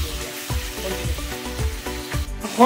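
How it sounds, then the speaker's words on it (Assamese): Chicken frying in a pan over a full flame, a steady sizzle broken by a regular series of soft thumps and scrapes as the meat is stirred, with no talking. "হাই পুৰা ফুল ফ্লেমত আমি খালি এনেকৈ ভাজিয়ে থাকিম"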